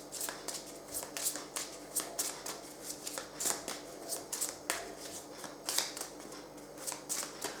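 Tarot cards shuffled by hand ahead of a reading, giving repeated soft riffling bursts and slaps in an uneven rhythm, close and fairly quiet, with no talking.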